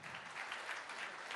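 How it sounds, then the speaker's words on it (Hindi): A stage audience claps steadily and densely to welcome Union Minister Anurag Thakur on stage at a televised interview event, the applause loud and continuous throughout. "जोरदार तालियों से स्वागत करिए यूनियन मिनिस्टर अनुराग ठाकुर जी का"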